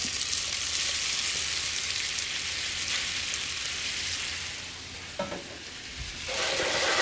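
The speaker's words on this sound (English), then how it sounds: "I'm going to add all my gnocchi in one shot." Gnocchi sear in a hot pan with a steady, bright sizzle throughout, broken by a short stir or clatter near the end, with the frying growing louder again afterward.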